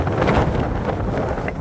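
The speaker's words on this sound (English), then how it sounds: "It's super windy though, my beard's getting blown all over the place." Strong wind batters the microphone on a mountain ridge along Mount Clay in the White Mountains, a loud, continuous rumbling buffet with gusty swells and no speech.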